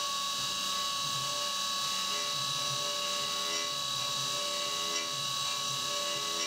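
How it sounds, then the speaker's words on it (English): A CNC mill does 3D machining passes that break and round over the edges of an AR15 high rail gas block. It gives a steady, continuous grinding whine with faint rasping texture and no pauses. "So now we go over to the 3D machining just to kind of break all the edges and round everything over"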